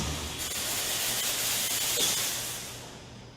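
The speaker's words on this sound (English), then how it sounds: "you can hear the screeching water as it's pushed through the body so quickly" Loud, steady hissing of 100 psi pressurized water spraying through a Pro-Spray sprinkler body, a continuous rushing, screeching spray that tapers off slightly at the end.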